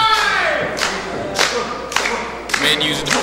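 A wrestling crowd at an IPW Pink Out event claps and cheers in bursts, with sharp rhythmic surges of applause rising over a steady crowd roar.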